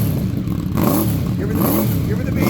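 A Honda Interceptor motorcycle engine is blipped in quick repeated revs, loud and close, with a voice talking over it.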